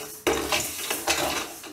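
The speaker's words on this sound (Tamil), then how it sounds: "அரிசியை வறுக்க வறுக்க பார்த்தீங்கன்னா பொரி மாதிரி மாறும்" Rice is dry-roasted in a pan on low flame, stirred in bursts of scraping and rattling grains with light clinks of a spoon against the pan, close and moderately loud.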